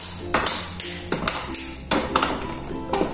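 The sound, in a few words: chopping a chocolate bar with a knife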